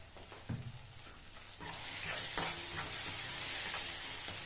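A spoon stirs homemade ghati masala and red chilli powder into softened tomatoes in a hot pan, with scraping strokes over a steady sizzle.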